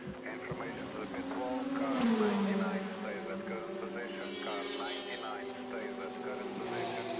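An Audi R18 e-tron race car runs at Silverstone in 2012, its engine tone swelling and then sweeping down as it comes through, under steady commentators' talk.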